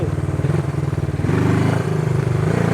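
A vintage Honda CB360 motorcycle engine idles close by with the clutch pulled in and in gear, a throbbing, lumpy pulse that firms up and steadies partway through, heard alone.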